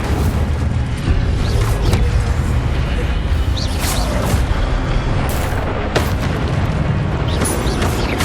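Spell-casting effects in Hogwarts Legacy, including the Incendio fire spell, form a dense stream of booms, whooshes and crashes. They play over a steady loud game soundscape with several sharp hits.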